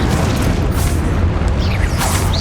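A blasting explosion spell in the Hogwarts Legacy video game gives a loud, continuous booming roar with crackling debris, close and filling the whole stretch without a pause.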